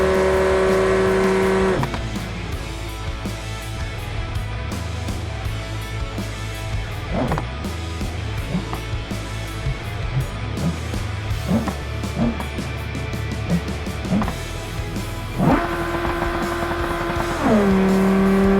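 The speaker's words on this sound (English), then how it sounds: "See what a rally car can do in a quarter mile." A Civetta Scintilla rally car on rally tires makes a quarter-mile drag run on a prepped surface, its engine revving hard then roaring loudly and continuously through the run, with rising revs at the start and end.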